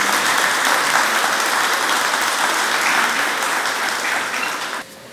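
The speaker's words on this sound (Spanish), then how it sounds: "Por favor, los aplausos de bienvenida." An audience gives a welcoming round of applause at a SENATI-Mitsui automotive painter certification ceremony, loud, dense and sustained clapping that fades out abruptly near the end.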